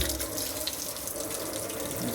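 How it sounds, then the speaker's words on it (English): An old kitchen faucet runs at full pressure, giving a steady rushing stream into the sink for a couple of seconds with no speech over it. "let's see what the water pressure looks like for this"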